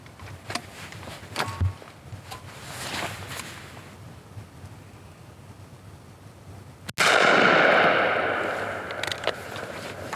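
A single loud rifle shot from a Thompson Center Encore cracks outdoors partway through, followed by a long rolling echo that decays slowly, after several seconds of quiet handling noise and shuffling.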